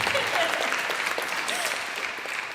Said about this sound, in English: Can we give Finn a round of applause?